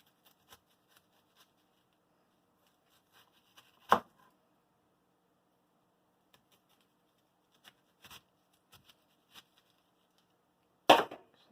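Knife slicing vegetables for mirepoix on a cutting board, with a few sparse light taps and two sharp, louder chops standing out near the start and at the end, otherwise quiet and close.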